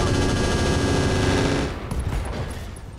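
A mech's machine gun in Roguetech, a BattleTech mod, fires a rapid, dense burst for about a second and a half, then tails off into scattered echoing impacts and rumble.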